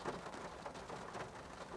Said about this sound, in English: As you can tell, it's raining.